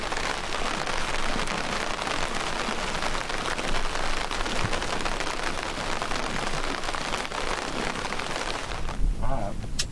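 Rain falls steadily on an open boat while fishing in the Florida Panhandle, a dense even hiss of drops hitting the surface that runs without pause from start to end, with a brief knock near the close.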